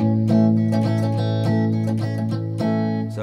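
Bright, happy major-key strumming on a guitar, sustained chords ringing clearly up close with light pick attacks and brief changes, no voices.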